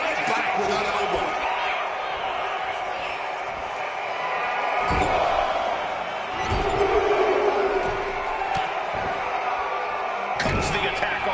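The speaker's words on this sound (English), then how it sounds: "What a raucous crowd here tonight" A raucous arena crowd at a WWE2K26 wrestling match roars steadily in the background, with thumps and slams from the ring and a commentator talking over it.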